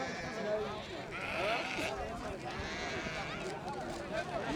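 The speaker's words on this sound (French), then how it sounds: "son marché très animé, où les palabres bruyantes se mêlent au bêlement des chèvres" Goats bleating amid a busy, noisy market in Niger, several wavering bleats rising over a constant hubbub of chatter and bustle, heard at a moderate distance.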